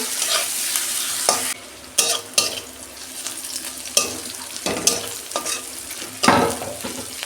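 Onions for a prawn malai curry fry in a pan, a close hissing sizzle punctuated by repeated sharp scrapes and clacks of the spatula stirring every second or so.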